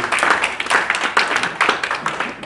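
A crowd at the 2019 Comrades Marathon finish applauds the two-time champion, brisk, dense clapping in uneven surges that continues throughout the short stretch.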